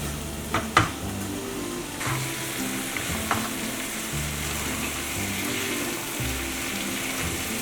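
Minced pork sizzles steadily in a hot pan with no added oil while being stir-fried for Thai pad kra pao, with a few sharp spatula clinks against the pan over the continuous frying hiss.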